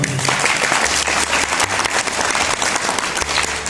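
Audience clapping at a village book festival, a dense, loud burst of applause filling the whole short stretch with no voices over it.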